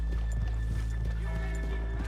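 Horses trot in Red Dead Redemption 2, a steady run of clip-clop hoofbeats over a low hum, with a faint whinny among them and no talk.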